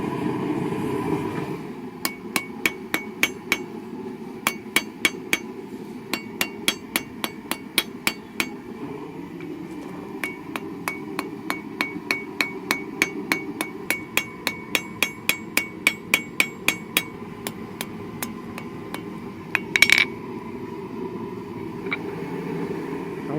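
Sharp, ringing hammer blows on a steel spike being forged and its point rounded on an anvil, struck in quick rhythmic bursts separated by brief pauses over a low background hum, with one louder clang near the end.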